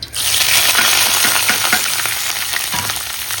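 Food fries in hot oil in a kadai, sending out a loud, close, continuous sizzle with faint stirring scrapes and no talk.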